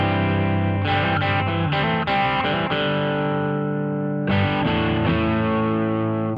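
Electric guitar through an Analog Alien Double Classic pedal as its gain rises, giving dense overdriven chords and riffs with rich overtones, played steadily and loudly without pause.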